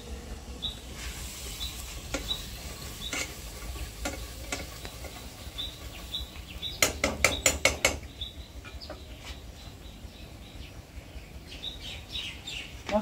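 Spice paste for a beef curry with chickpea lentils sautés quietly in a pan, with a low steady sizzle, scattered stirring scrapes and a short burst of clattering spoon strikes.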